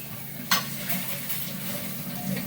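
Ghee goes into a pot of cooked Maharashtrian dal and is stirred in: one soft clink of a spoon against the pot, then a steady low simmer with faint stirring swishes, close by and without talking.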